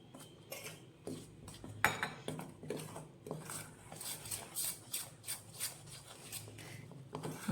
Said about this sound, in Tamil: இப்போ இந்த மாவை தண்ணியை ஊற்றி நல்லா கலக்க போகிறோம்.